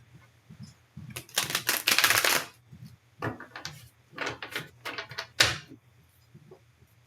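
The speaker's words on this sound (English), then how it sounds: "I'm going to get a couple of tarot cards for advice" Tarot cards are drawn and handled: bursts of papery shuffling, flicks and soft slaps, close and fairly quiet, in irregular clusters with short pauses.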